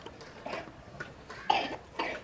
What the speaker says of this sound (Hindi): हल्का हल्का बुखार और खांसी शुरू हो चुकी है